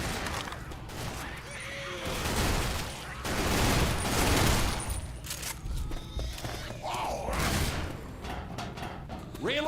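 Rifle fire in the zombie shooter Left 4 Dead 2, with repeated shots and clattering weapon handling spread across the stretch at moderate loudness, mixed with game noise and someone talking over it.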